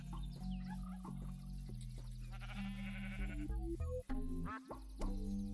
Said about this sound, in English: I got a ghost sheep right here.